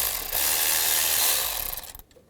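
A 10mm socket on a tool removes an exhaust manifold stud from a 2002-2009 Chevrolet Trailblazer, giving a loud, harsh, steady whirring grind for about two seconds that sputters and stops.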